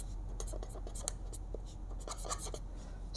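Pen writing by hand on paper during a math lesson, a close faint run of quick scratchy strokes and taps, no talking.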